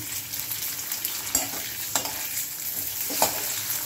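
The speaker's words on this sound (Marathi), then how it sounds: "यातच आपण बटाटे तळून घेऊया।" Boiled, peeled and cut potatoes frying in hot oil over a medium flame, with a steady sizzle and a few clinks of stirring, close by and with no talk.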